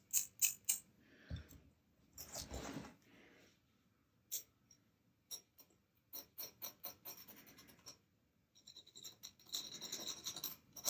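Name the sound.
scraping and rounding guitar nut edges, Fender Telecaster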